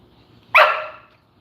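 A single sharp dog bark sounds close by against a quiet background, short and loud, then fades out.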